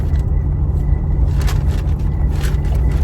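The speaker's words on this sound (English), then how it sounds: "Man, this traffic is about to be crazy." Afternoon rush-hour road traffic heard from inside a car, a steady loud low rumble of engines and tyres with faint passing swells and no talking.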